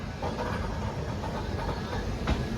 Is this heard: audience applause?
no